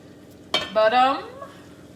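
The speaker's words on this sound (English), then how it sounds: "now we are going to add in the tin of chopped tomatoes" A tin of chopped tomatoes goes into a pan for a chicken dopiaza: a sudden metallic clatter followed by a short ringing scrape and soft wet slop, fairly close, then quiet again.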